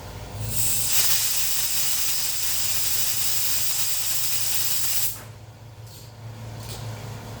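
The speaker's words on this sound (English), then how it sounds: "I'm going to stick the air hose through here, blow it back the other way" Compressed air from a hose blasts through the fuel line of a 1968 Datsun 1000, a loud steady close hiss lasting about five seconds before cutting off to quiet.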